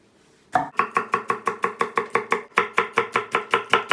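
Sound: chopping vegetables with knife

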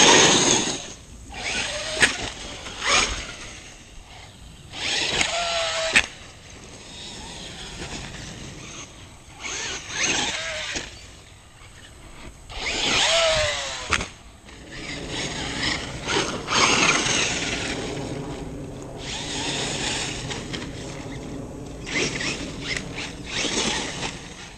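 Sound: Axial Yeti RC car with Traxxas Rustler motor driving

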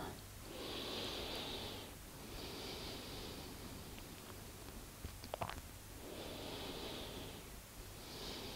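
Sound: slow breathing while lying down in yoga

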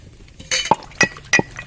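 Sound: pounding fried spices in a mortar and pestle

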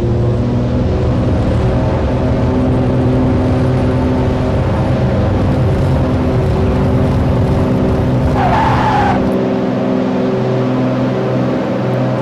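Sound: aircraft takeoff roll in X-Plane 11 video game

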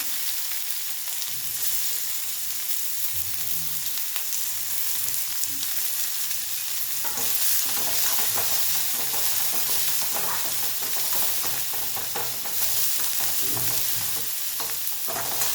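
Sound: onion sautéing with asafoetida in a pan

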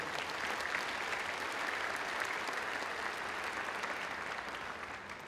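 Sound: applause

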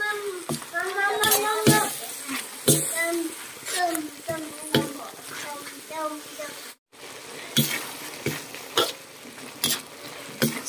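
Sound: stir-frying vegetables in a pan

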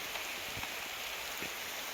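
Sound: rain falling

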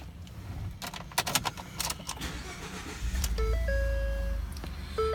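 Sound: 2013 Ford F150 truck engine starting

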